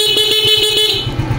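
A 2022 Suzuki Smash 115 motorcycle's horn gives a weak, nasal buzzing tone with a pulsing rasp, sounded up close for about a second. Its thin honk drops away to the engine's low putter.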